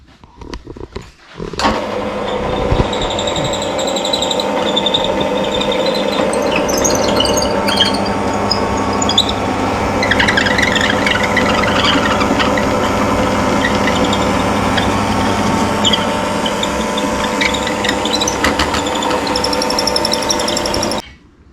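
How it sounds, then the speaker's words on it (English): A steady, whining power drill runs continuously for about twenty seconds, loud and close, with a slight grinding rasp as it bores through the wooden leg of a rocking horse. "now we'll drill through on the leg"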